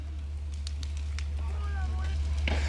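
A caravan burns near the Sibiu train station, a steady roaring fire with faint crackles under a low rumble, as agitated voices shout nearby.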